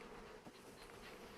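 Honey bees hum in a dense, steady buzz around an open hive, close and continuous, with no voices.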